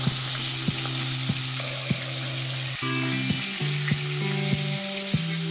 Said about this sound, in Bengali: তো এই পাশে আমি এইভাবে ভেজে নেব।